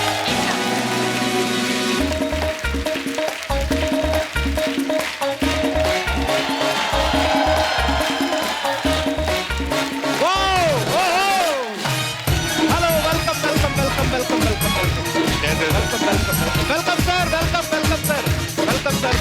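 A studio audience applauds loudly for the Hungama 2 cast on a television comedy show, the clapping continuing under loud music throughout.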